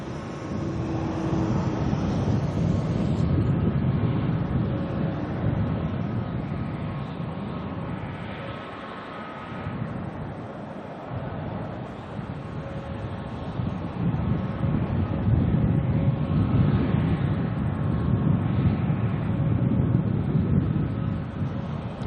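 An Airbus A321neo on a flight to Melbourne lines up and takes off at Auckland Airport, its engines a broad steady roar heard from a distance that swells gradually toward the end, with no talk.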